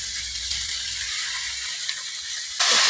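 Fish oil frying in a pan with ginger and cumin-coriander paste, a steady close sizzling hiss that holds evenly, then jumps louder near the end.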